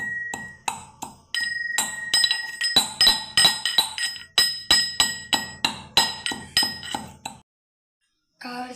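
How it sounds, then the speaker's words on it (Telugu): Rock salt crushed fine with a mortar and pestle: a steady series of sharp, ringing clinks and knocks, close and fairly loud, repeating at a quick even rhythm before stopping abruptly. "కావాల్సినంత కల్లుప్పు వేసుకోవాలి. మెత్తగా దంచుకోవాలి."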